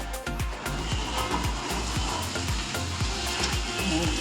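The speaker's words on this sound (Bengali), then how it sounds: "ছোলাটা দিয়ে দিচ্ছি।" Chickpeas go into a pan of already-fried onions with turmeric, giving a steady moderate sizzle broken by repeated scraping knocks of stirring.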